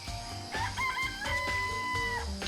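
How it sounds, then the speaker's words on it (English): Chickens in a coop in the video game Danganronpa: Trigger Happy Havoc give repeated tonal, crowing-like clucks and calls, fairly close and steady, with no talking. "And there were some chickens in the chicken coop."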